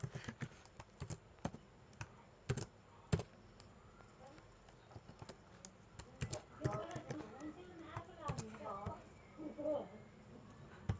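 Computer keyboard keys clack in irregular bursts while HTML code is typed, crisp close clicks scattered over about eleven seconds, with a voice talking quietly under them in the second half.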